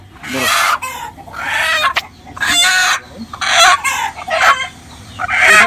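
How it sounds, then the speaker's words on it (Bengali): Egyptian Fayoumi chickens, an egg-laying breed, cluck and crow loudly up close in repeated bursts of squawking calls, with short pauses between them and no talking. "এটা হচ্ছে কিন্তু ডিমের রানী মিশরীয় ফাউমি মুরগি, অনেক আওয়াজ করে"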